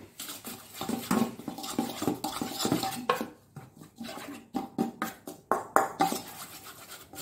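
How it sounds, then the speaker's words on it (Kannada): Spoon scraping and clinking in a bowl while salt, pepper, coriander powder and ginger garlic paste are mixed for tender jackfruit kebabs, a steady run of close utensil scrapes and taps with no talk. "ಉಪ್ಪು, ಮೆಣಸು, ಕೊತ್ತಂಬರಿ ಪುಡಿ ಎಲ್ಲ ಒಮ್ಮೆ ಜಿಂಜರ್ ಗಾರ್ಲಿಕ್ ಪೇಸ್ಟನ್ನು ಎಲ್ಲ ಮಿಕ್ಸ್ ಮಾಡುವ"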